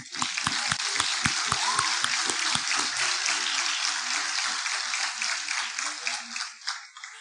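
Congregation applauding mothers at a church gathering, starting with a few sharp, close claps before settling into a steady wash of clapping that thins out toward the end.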